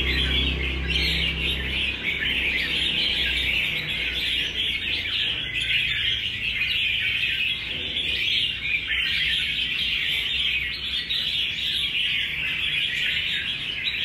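A wild-caught songbird chirps and tweets continuously, with dense, high, shrill calls that run without pause over a low background hum.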